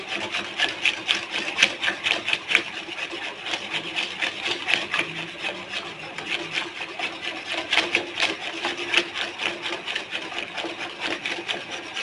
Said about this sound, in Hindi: ऐसे ही साथ साथ चम्मच चलाते रहेंगे।